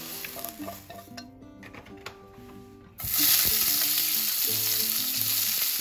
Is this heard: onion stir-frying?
yes